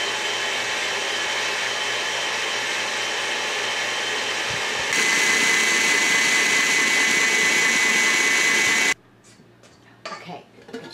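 An electric hand mixer beating egg yolks and sugar for a lemon soufflé, a loud steady whine that steps up in speed partway through and then cuts off, leaving quieter kitchen sounds.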